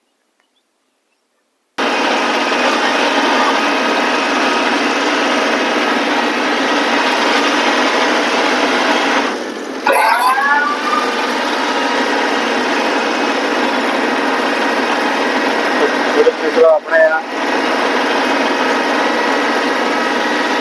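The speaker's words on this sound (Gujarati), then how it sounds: "મિની ટ્રેક્ટરના રોટોવેટરના મદદથી નિંદામણ સાફ કરવાનું ચાલુ કર્યું છે" A Kubota mini tractor with a rotovator weeding a papaya field runs as a loud, steady, close engine drone with churning, after a short silence and a few spoken words at the start.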